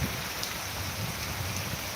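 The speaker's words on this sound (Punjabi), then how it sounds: "ਹੁਣ ਇਸ ਟਾਈਮ ਜੀ ਮੀਂਹ ਪੈ ਰਿਹਾ ਪੂਰੇ ਜ਼ੋਰਾਂ ਨਾਲ" Heavy morning rain pours steadily in Punjab, a dense, continuous hiss and patter that stays even throughout, with no voices.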